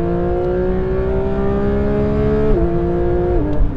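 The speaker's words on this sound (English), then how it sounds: "let's have a listen to the engine. So dropping down some gears" A Porsche 911 GT3 engine revs steadily, then its pitch drops in two distinct steps as it shifts down through the gears, loud and close.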